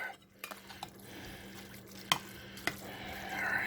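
Chopped, diced black olives are stirred into a mixture with a spoon, giving soft scraping swirls and a couple of sharp clinks against the pot. No one talks.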